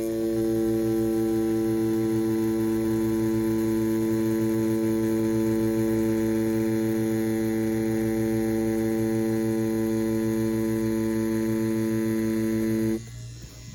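Ambition Soldier wireless tattoo machine running at 7.5 volts with a round shader needle grouping, giving a steady close electric buzz with a strong hum that holds level for about thirteen seconds before abruptly shifting near the end.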